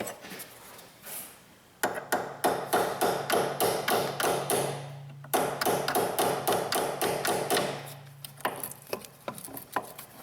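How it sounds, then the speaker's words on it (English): A hammer taps a pressed-in brake hose bracket stud on a Pontiac G6's rear suspension: two bursts of quick, sharp metallic knocks, close and even in rhythm, separated by a brief pause. "Better get a hammer."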